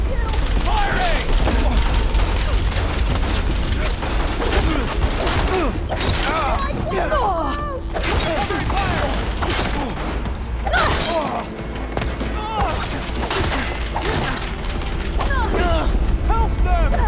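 Battle gunfire in the video game Horizon Forbidden West, dense bursts of shots and mechanical clatter with impacts, loud and continuous, mixed with shouting voices.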